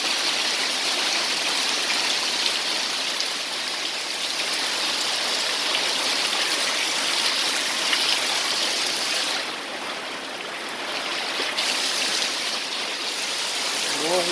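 Heavy rain pouring, a steady close wash of falling water and drops hitting surfaces, dipping slightly for a moment midway before returning to full strength.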